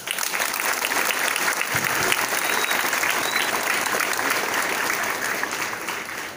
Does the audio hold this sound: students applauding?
yes